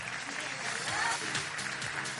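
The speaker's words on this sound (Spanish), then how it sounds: "Aplausos." Studio audience applause at a public television presentation of a World Cup broadcast team, a steady clapping wash that swells slightly midway, with talk mixed in.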